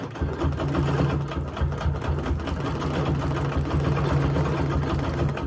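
A sewing machine stitches free motion quilting in the ditch on a Dresden plate quilt, a continuous close, rapid mechanical chatter of needle strokes with no pause or talk.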